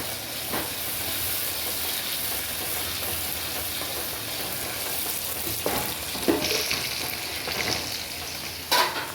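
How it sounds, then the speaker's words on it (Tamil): Curry leaves and tomato sizzle in hot frying oil as a tempering for Tirunelveli-style dried fish kuzhambu, a steady dense crackling hiss with a few sharper spits near the end. "இதை அப்படியே தாளித்து இந்த குழம்புல ஊற்றிடலாம்."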